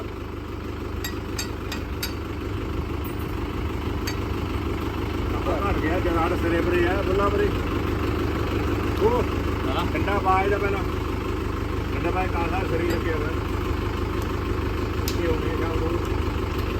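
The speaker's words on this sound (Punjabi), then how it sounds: "ਲੋ ਜੀ ਭਾਈ ਜਨਰੇਟਰ ਵੀ ਆ ਗਿਆ" A generator engine runs with a steady low hum throughout, while people talk nearby over the droning motor.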